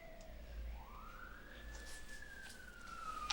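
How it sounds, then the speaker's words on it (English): Faint emergency siren wailing up and then holding high as vehicles pass at a distance, steady low background rumble beneath. "while the sirens go by, punctuating the lecture"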